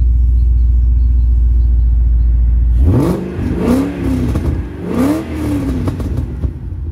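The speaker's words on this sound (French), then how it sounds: "C'est un échappement bien sûr spécifique, complètement démentiel." A Ford Mustang Shelby GT500 Super Snake tribute with a specific exhaust idles with a deep steady rumble, then is revved hard several times, each blip rising and falling loudly up close.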